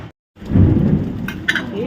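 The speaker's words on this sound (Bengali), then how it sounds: "চমকাচ্ছে, বুঝছো? গড়গড় গড়গড় বৃষ্টি আর থামে না।" Thunder rolls outside during heavy monsoon rain, a loud low rumble swelling after a brief moment of silence and lingering over the downpour.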